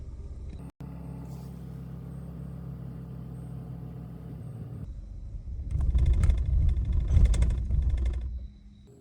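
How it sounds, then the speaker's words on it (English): Car engine idling steadily, then stumbling into a rougher, louder sputter as its fuel supply is cut off by a scan tool, before winding down and dying out. "if we hit off, you'll hear it stutter and it'll cut off once there's no more fuel in the system"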